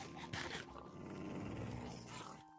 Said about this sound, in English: These dogs are ticked off.